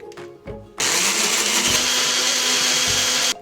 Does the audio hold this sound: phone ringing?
no